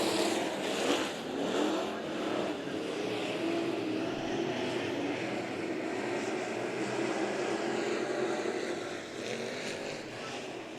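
A pack of race cars roars at the start of a heat race at Bakersfield Speedway. The engines drone loud and steady throughout, rising and falling slightly as the field passes.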